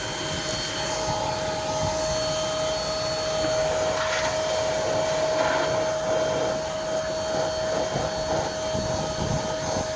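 An APOSEN H20-4 cordless car vacuum runs on its high setting with a steady, loud whine and a sharp tonal hum, its airflow roar shifting slightly as it picks up debris, with no talking.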